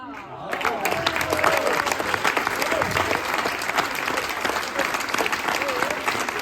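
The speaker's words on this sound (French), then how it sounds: "Salve d'applaudissements pour tous les bénévoles." Audience applause fills a general assembly hall, steady dense clapping from a sizeable crowd that holds at full strength throughout, with faint voices mixed underneath.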